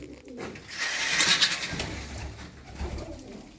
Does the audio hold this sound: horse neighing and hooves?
no